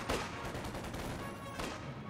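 Gunfire and shell hits from the World War II strategy game Company of Heroes 2 crackle in a faint, dense burst of scattered shots and impacts, with a sharp bang near the start and another near the end.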